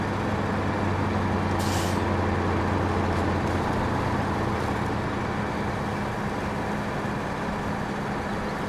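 Truck engine in SnowRunner straining under a load of hay bales, a loud constant low drone with a short hiss of air brakes near the start.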